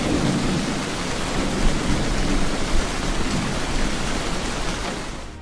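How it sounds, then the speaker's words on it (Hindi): Heavy monsoon rain pours down on Lahore during urban flooding, a dense continuous roar of rainfall with occasional low thunder-like rumbles, steady throughout and fading slightly at the end. "सुबह 4 बजे शुरू होने वाली मुसलसल बारिश से शहर में अर्बन फ्लडिंग की सूरत हाल पैदा हो गई।"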